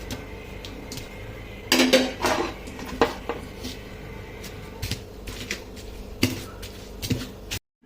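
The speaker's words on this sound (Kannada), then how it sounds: "ಚೆನ್ನಾಗಿ ಬೆಂದಿದ್ದನ್ನು ಈ ಥರ ಕುಟ್ಟಿದ ಮೇಲೆ ಈ ಟೊಮೊಟೊ ಹಾಕ್ಕೊಂಡು ಅದಕ್ಕೆ ಜಜ್ಬೇಕು" Cooked vegetables and tomato are pounded by hand in a vessel for a village-style raw gojju, with irregular hard thuds and clatters, a few louder strikes, close by and without speech.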